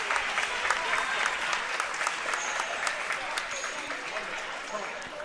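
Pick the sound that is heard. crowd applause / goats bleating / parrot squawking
crowd applause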